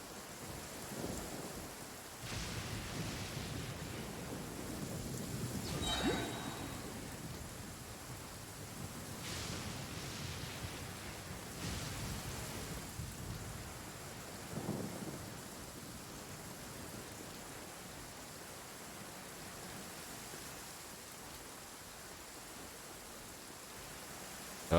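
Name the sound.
thunderstorm in Genshin Impact video game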